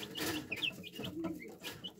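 Hens and chicks raised together with pheasant chicks cluck and peep softly in a coop, with scattered short high chirps over a low steady murmur of calls.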